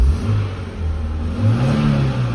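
A Hyundai car engine, its fuel pump hoses newly replaced, revs up and down in smooth swells close to the listener, loud and continuous with no voices.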